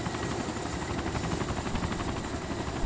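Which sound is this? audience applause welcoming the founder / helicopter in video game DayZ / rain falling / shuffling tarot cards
helicopter in video game DayZ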